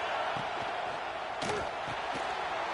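Stadium crowd noise from the College Football 25 video game fills the background as a dense, steady roar, with a few scattered thumps and muffled voices within it.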